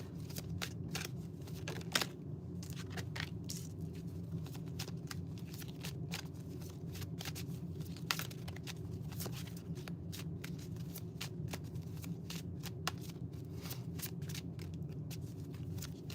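Tarot cards being shuffled by hand during a live solstice reading, with a steady, continuous riffling and flicking of cards close up, occasional sharper card snaps, no talking.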